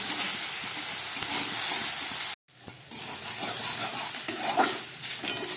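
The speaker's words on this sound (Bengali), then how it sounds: "আলুটাকে আমি একটু ভেজে নিই" Steady sizzling of potatoes frying in a pan, with a brief drop to silence midway before the crackle resumes, stirring scrapes audible.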